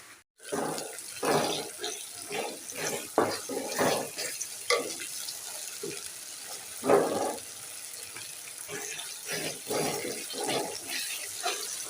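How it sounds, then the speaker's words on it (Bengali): Water is poured into a cooking pot holding oil, onion, garlic and chili, making irregular splashing and gushing bursts that continue for about twelve seconds at moderate loudness, close by. "এখন পরিমাণ মতো পানি দিয়ে বসিয়ে দেবো"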